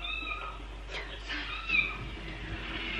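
A cat meowing in a YouTube cat video watched on a screen at home, a few soft, slightly distant meows over a steady low room hum.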